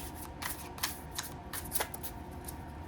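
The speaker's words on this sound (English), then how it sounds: "This is the Intuit Oracle. I have all of their cards. So it's a chunky deck." A chunky Intuit Oracle deck of oracle cards being shuffled by hand, with a few sharp riffling bursts over a soft steady background hiss, close and fairly quiet with no talking.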